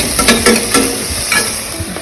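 Onions sautéing in plenty of oil for a vegetable biryani, a loud dense sizzle with quick spatula stirs close by and no talking.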